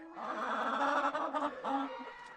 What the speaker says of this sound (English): I keep my long crowers in here